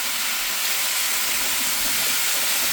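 Boiled broccoli being drained, a steady broadband rush of pouring water and hissing steam that holds evenly and fairly loud throughout, with no speech.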